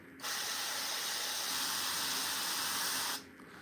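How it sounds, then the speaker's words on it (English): Airbrush spraying paint onto a Warhammer miniature: one steady hiss of air and paint lasting about three seconds, close and fairly quiet, starting and stopping abruptly with no talk. "this little guy using the airbrush is perfect"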